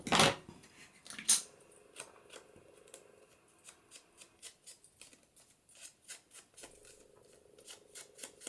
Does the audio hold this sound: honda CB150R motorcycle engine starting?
no